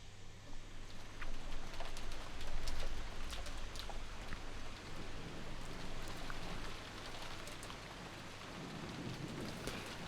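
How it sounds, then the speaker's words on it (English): Steady rain in the Umineko visual novel game, a dense, even hiss of falling drops with a low rumble like distant thunder, continuous throughout with no voices. "The only voice that called after them was the sound of the rain."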